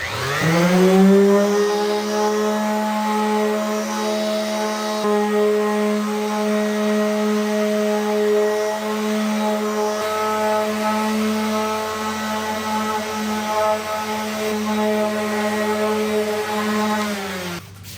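Near and steady, a dual-action sander whines while wet sanding the trunk of a 2006-10 Dodge Charger Daytona with 3000 grit, holding a constant tone for about eighteen seconds before stopping.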